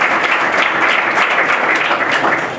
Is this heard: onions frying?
no